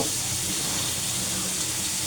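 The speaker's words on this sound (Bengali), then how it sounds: "এখন আমি মাছগুলো ভেজে নেব" Steady, loud sizzling of fish frying in hot oil, a continuous crackling hiss with no pauses and no voices.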